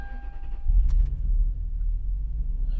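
A car engine cranks and catches on a new Odyssey dry cell battery, settling into a steady, low, close rumble that wavers as though it nearly stalls, with no talking.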